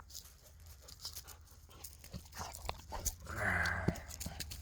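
A dog pants and chews close by during an outdoor walk, with quick rhythmic breaths and crunchy mouth sounds at moderate to faint level over rustling and ambient noise.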